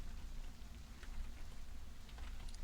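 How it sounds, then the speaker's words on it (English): Steady rain falls as an ambient effect in the tabletop game TaleSpire, a soft, even patter that runs quietly throughout with no voices. "Still raining, I see."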